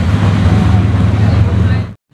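A Mini John Cooper Works car's engine and exhaust give a loud, close rumble with a deep low drone, which cuts off abruptly at the end.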